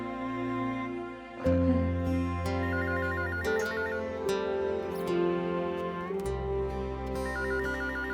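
A mobile phone ringtone plays a repeating electronic melody over background music, ringing steadily throughout.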